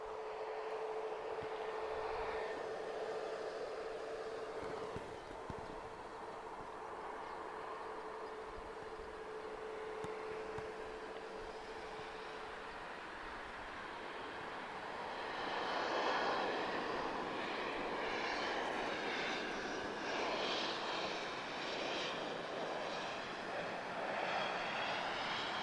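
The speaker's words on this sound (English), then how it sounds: "A320 of EasyJet." EasyJet Airbus A320 jet arriving at Lisbon from Madrid, a distant engine whine that swells into a louder rushing roar as it comes closer, with a faint steady tone early on.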